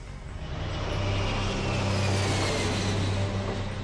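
A steady, loud roar of airliner engines, evenly sustained throughout with a deep low hum underneath, as on an Ethiopian Airlines flight to Nairobi.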